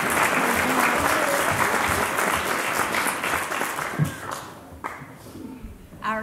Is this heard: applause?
yes